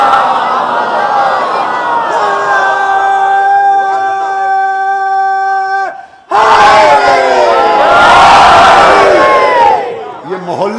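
A congregation at a Shia majlis recites salawat together: a sustained lead voice carries the first six seconds, then after a brief gap the whole crowd bursts into a loud, massed chant in unison.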